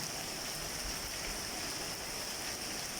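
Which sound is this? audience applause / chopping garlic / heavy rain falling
heavy rain falling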